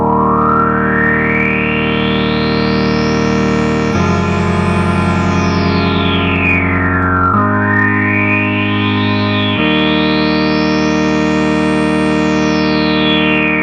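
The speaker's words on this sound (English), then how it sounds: "Then we got the actual brass section, which is the voltage controlled filter." A Moog SOB synthesizer brass section played through its voltage controlled filter: loud sustained chords whose filter sweeps rise and fall in four successive swells, with no voices.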